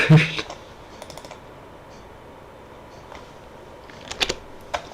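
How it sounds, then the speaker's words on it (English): Keys on a computer keyboard click sharply, a few taps at the start and a couple of isolated presses later, close and fairly clear over a quiet background. "Bro just presses the delete button on the keyboard."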